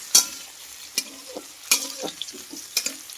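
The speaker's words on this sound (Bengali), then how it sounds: "ভালো করে একবার নাড়িয়ে দেবো যাতে আলুটা নিচে না লেগে যায়" Potatoes frying in oil with salt and turmeric and being stirred, giving several distinct scraping strokes over a bright sizzle, close and clear, with no talking.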